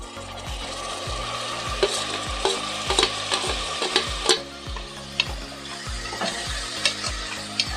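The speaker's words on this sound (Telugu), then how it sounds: "ఇలా మగ్గించుకున్న తర్వాతకి కోసించుకున్న టమాటాలు వేసుకుంటున్నాను" Chopped tomatoes frying in a pan for an Indian potato-tomato curry, stirred with steady scraping strokes over a continuous sizzle, close and fairly loud with no talk.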